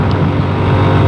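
A Lexmoto Isca motorcycle engine drones steadily while riding, a loud, close low-pitched hum with wind roar and no voices.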